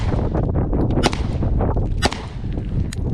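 A Wilson Combat EDC X9 pistol fired outdoors with hot Underwood 147gr +P JHP ammunition, three sharp, loud shots spaced about a second apart over a steady windy background.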